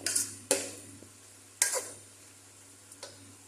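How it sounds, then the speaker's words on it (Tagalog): Shrimp-and-rice ingredients being sautéed in a pan, heard as a few separate, fairly quiet spatula scrapes and clacks over a faint sizzle, with pauses between them. "Dito magigisa naman tayo ng igigisa-gisa natin to konti."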